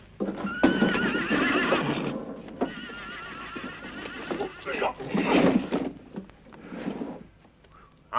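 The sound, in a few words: horses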